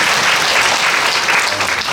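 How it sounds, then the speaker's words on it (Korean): An audience at a regional education forum applauds steadily, a dense wash of many hands clapping at close range for the full two seconds. "큰 박수 한번"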